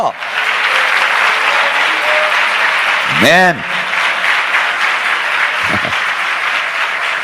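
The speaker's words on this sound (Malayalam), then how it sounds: "എല്ലാവരും വാ തുറന്ന് കരമടിച്ച് ശക്തിയോട് ദൈവത്തെ സ്തുതിച്ചാട്ടെ" A church congregation claps continuously and loudly while praising God during a fasting prayer session, dense sustained applause with voices calling out and a singing or shouted voice rising over it.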